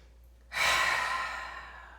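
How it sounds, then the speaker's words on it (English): After a brief quiet moment, a single deep breath is released through the mouth, a close, airy whoosh that fades gradually over about a second and a half. "Take a nice inhale through your nose and exhale out your mouth"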